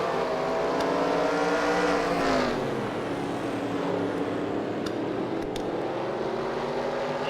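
Race car engines drone steadily as the cars lap a track, with one engine pitch sweeping past up close and the others holding a continuous roar in the background.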